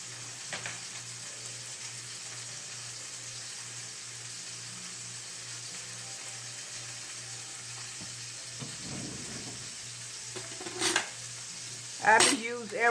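Brussels sprouts and greens sizzle steadily in a pan on the stovetop, with a soft, even frying hiss and a few brief utensil scrapes and clinks near the end.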